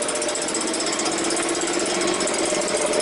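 A leaf blower runs nearby during lawn care work, a loud, constant motor drone with a rapid, rattly engine pulse that holds steady and unbroken throughout.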